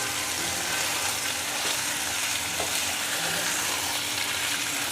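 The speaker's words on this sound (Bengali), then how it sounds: "মশলার সঙ্গে মাংসটা এখন ভালো করে মিশিয়ে নিচ্ছি" Mutton being stirred into a spice masala in a hot pan, giving a steady, loud sizzle and frying hiss throughout with faint scraping of the stirring.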